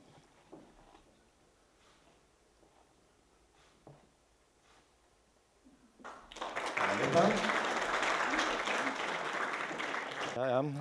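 Audience applause at a primary school awards ceremony for pupils, beginning after a quiet stretch with faint movement and swelling into steady, full clapping that continues to the end.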